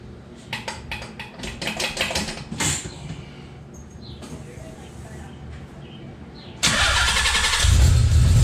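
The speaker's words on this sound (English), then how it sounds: "Let me start the car up," A Nissan 300ZX starting up, with several sharp cranking bursts and short pauses, then the engine catching and settling into a loud, steady idle close by in a garage.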